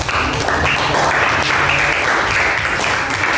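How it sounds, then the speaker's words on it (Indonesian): An audience in a classroom applauds after a group presentation, loud, close, continuous clapping from many hands sustained throughout. "Jadi itulah presentasi dari kelompok 1. Beri tepuk tangannya."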